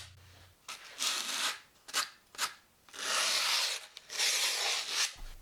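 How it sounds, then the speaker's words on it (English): Abrasive rubbing along the edge of skateboard grip tape, heard as several close, scratchy strokes of varying length, with brief pauses between bursts and no talking. "When roughening up the edge, hit the line area a couple times to keep it from peeling up."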